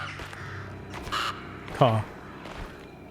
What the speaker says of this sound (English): Ah, bird.